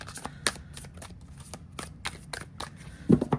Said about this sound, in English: with the overhand shuffling